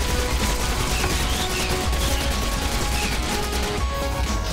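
Rapid video-game gunfire shooting through a wall, a dense, steady barrage of shots that stays loud and continuous throughout.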